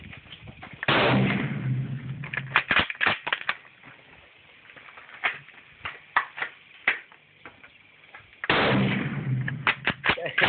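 WWII Japanese rifle fired outdoors: two loud booming shots several seconds apart, with a run of sharp clicks and knocks of bolt handling and brass between them.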